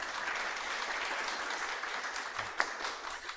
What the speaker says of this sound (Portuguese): Uma salva de palmas para o Fernando.